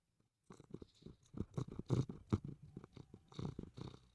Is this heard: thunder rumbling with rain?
no